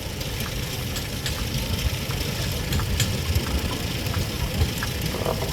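An old tractor engine from around 1934 runs steadily at a threshermen's show, a continuous rough idle with low knocking and vibration, moderately close, with faint outdoor background noise and no voices.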